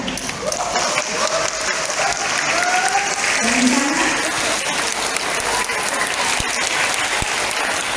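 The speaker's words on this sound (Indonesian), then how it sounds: "Yang di bagian sana ya, tepuk tangan, tepuk tangan" A youth audience at a political gathering in Surabaya–Sidoarjo applauds steadily, a dense wash of clapping that fills the hall from start to end, with voices calling faintly beneath it.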